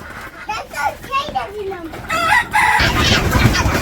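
Chickens on a village poultry farm cluck and squawk in a busy, shifting chorus as they are rounded up, with children and adults talking over them throughout.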